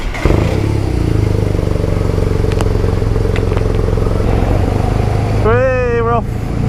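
A BMW R nineT motorcycle rides off a ferry with a steady, close engine rumble that holds throughout, joined near the end by a brief high tonal voice-like sound.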